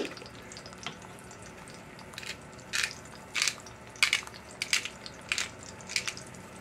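Thick bacon frying in a pan gives off steady faint sizzling, punctuated by irregular louder pops and crackles, with no voices.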